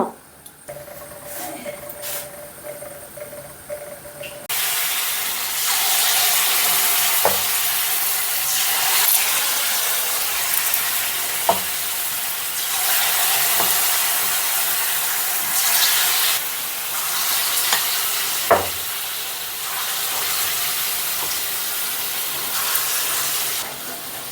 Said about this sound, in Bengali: এরপর ফুলুরিটা ছাকবো এরপরে কড়ায় বসিয়ে দিয়েছি